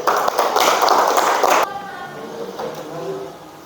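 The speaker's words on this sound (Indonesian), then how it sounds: "Kita beri aplaus kepada kelompok 2." Brief burst of applause from a classroom audience for a student group presenting in a mechanical engineering lesson, loud clapping for about a second and a half before it cuts off abruptly, followed by quieter room sound and voices.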